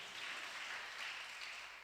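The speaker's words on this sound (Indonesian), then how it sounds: "Tepuk tangan buat Tuhan Yesus." A church congregation claps during a Sunday worship service, a soft, even wash of applause that holds steady throughout.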